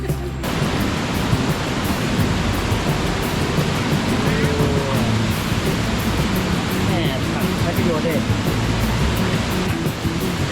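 A waterfall at Kroke E-Dok in Saraburi roars loudly and steadily as a dense, continuous rush of falling water close by, with faint voices barely audible beneath it.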